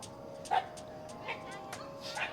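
Dogs on Monkey Hill in Phuket, Thailand give several faint, short yipping barks at irregular intervals, distant and low against a quiet outdoor background.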